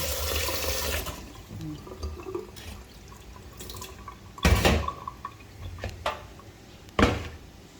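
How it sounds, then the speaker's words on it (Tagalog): Water is poured and splashed over eggplant being prepared for pork sinigang, with irregular sloshing and a few sharp clatters against a pot, fairly quiet and close, with no talking. "Yung talong guys, lagyan ko muna ng tubig."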